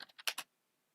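Quick typing on a computer keyboard, five crisp key clicks in rapid succession within half a second, close and clear, then silence.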